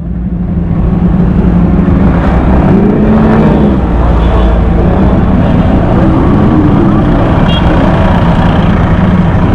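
Superbike engines rev loudly and steadily as a group of riders sets off from a meetup, a dense continuous roar of motors close by with faint voices underneath.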